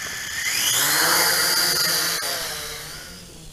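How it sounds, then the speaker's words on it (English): Feilun FX122 camera and gimbal drone with its motors armed and spinning, a steady high whine that swells as throttle rises then eases off slightly toward the end, loud and close with no talking. "Okay, and now arm the motors."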